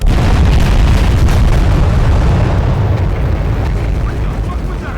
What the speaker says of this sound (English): distract the police cars with a little explosion